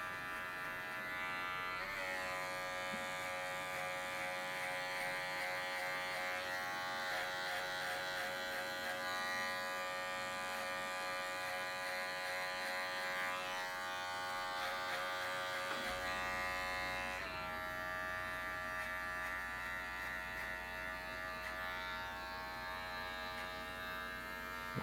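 An electric hair clipper buzzes continuously, close up, while cutting a men's fade, first with the lever high and then low. A steady, even drone with slight shifts in pitch and pressure as the clipper passes over the hair, with no talk.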